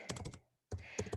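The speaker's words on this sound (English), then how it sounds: "I'm just typing a comment quickly." Quick typing on a computer keyboard, two bursts of dense close clicks separated by a short pause.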